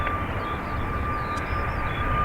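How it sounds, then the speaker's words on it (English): A Ryanair Boeing 737 MAX 8 jet takes off at Dublin Airport, a steady, moderately distant engine roar with a thin high whine running through it. "Ryanair Max 8 off to Amsterdam."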